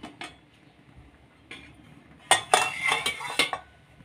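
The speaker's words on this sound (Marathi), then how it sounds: "आता 15 ते 20 मिनिटं झालेली आहे इथे आणि मी झाकण काढून घेते." A metal lid comes off a kadai pan with a few light clinks and rattles, ending in a short cluster of sharper metallic knocks close by, against a quiet background.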